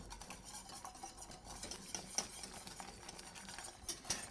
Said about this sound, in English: cornmeal. We're going to whisk it.